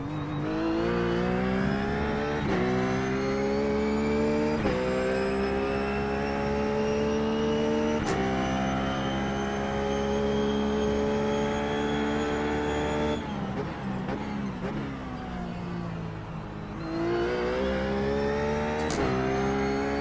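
Ruf GT3 race car engine at Sebring in the iRacing game, a loud sustained howl rising and falling through corners with sharp gear shifts and steady revving throughout.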